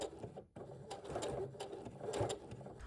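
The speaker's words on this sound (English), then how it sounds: "I'm going to stitch along the edge of where I just sewed" Sewing machine stitching along the edge of a robe, a quiet, rapid mechanical patter close to the mic, pausing briefly before resuming its steady run.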